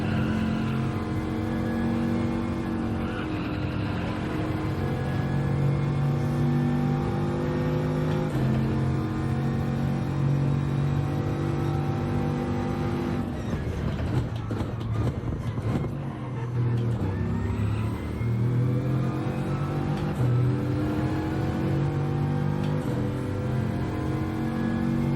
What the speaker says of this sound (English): But I am going to rev the piss out of it.